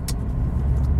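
An MG ZT260 V8 drives along a road in Cornwall, a low steady engine rumble and road noise heard from inside for about a second, with no speech.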